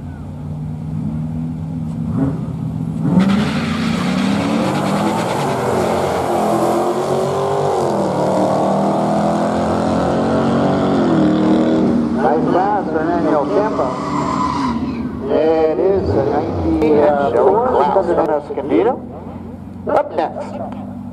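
A 2002 Camaro and a 2006 Dodge SRT race side by side on a drag strip at a Friday night drag event at Barona, with loud roaring engines and squealing tires, and voices audible over the noise.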